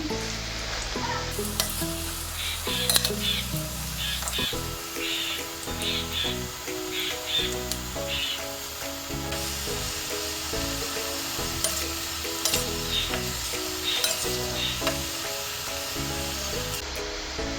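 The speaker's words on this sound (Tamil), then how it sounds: "நல்லா பொரியட்டும். லைட்டாக திருப்பி மட்டும் விட்டுக்கோங்க" Ladies finger (okra) pakoda fries in hot oil with a continuous bubbling sizzle that stays close and steady under background music.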